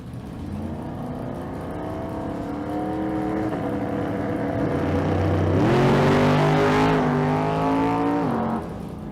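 A 1970 Nova with a big block engine and a 2012 Mustang launching in a drag race, engines revving and rising in pitch through the gears, loud and close, then fading.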